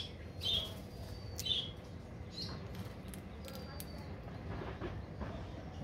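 Pet parakeets eating together let out a few short, high chirps over a low background rumble, while people talk nearby.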